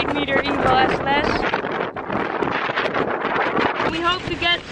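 Strong, gusty wind at a kitesurfing spot buffets the microphone continuously, with a person talking underneath it.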